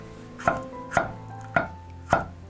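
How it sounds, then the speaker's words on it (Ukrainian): A kitchen knife slices bell peppers into thin strips on a cutting board for a pasta dinner, four crisp, evenly spaced strokes landing about every half second, close and clear, with no talking. "Нарізаємо перець соломкою"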